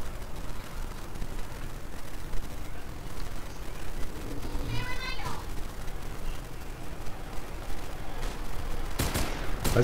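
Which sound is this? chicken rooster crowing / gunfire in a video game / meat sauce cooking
gunfire in a video game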